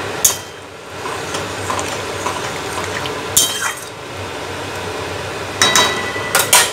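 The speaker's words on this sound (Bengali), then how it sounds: "এই যে চিংড়ি মাছগুলো দিয়ে দিলাম।" Prawns that were kept in a little water drop into a pot of potato and taro curry, giving a wet splash and soft clinks of metal close by, with a few sharper bursts.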